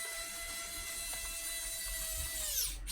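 A small power screwdriver drives a screw into an Aspire computer case, a quiet steady motor whine that winds down toward the end with a brief clatter, heard alone.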